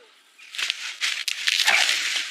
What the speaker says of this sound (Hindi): ये तो लाली के रोने की आवाज है